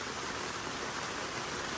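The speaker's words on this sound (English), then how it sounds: "We just weren't expecting this much rain to be out here today" Rain falls steadily outdoors during a wet pig hunt, a soft, even hiss of drops with no voices, fairly quiet and constant throughout.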